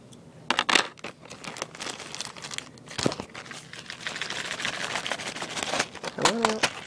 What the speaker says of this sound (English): any order probably comes in a plastic bag